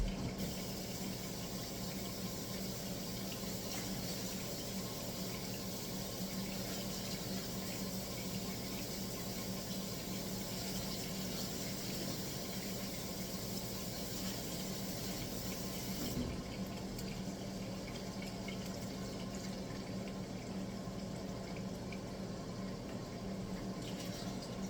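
Running water washes pre-sliced mushrooms in a kitchen sink, a steady continuous rush of tap water that holds at an even level for the whole stretch with no pauses.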